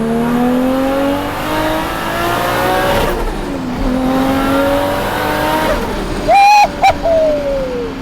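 A straight-piped big-turbo Mk4 Toyota Supra engine revs hard in second gear and climbs in pitch, dips briefly as it shifts, then climbs again; a short squeal or whine cuts in near the end.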